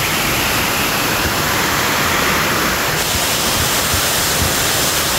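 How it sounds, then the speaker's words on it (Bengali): A jungle waterfall on the Bangladesh-India border in Sylhet, a loud, dense, unbroken rush of falling water that fills the whole clip with no voices heard. "আর এই হচ্ছে সেই ঝর্ণা।"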